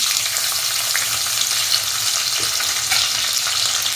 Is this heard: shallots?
yes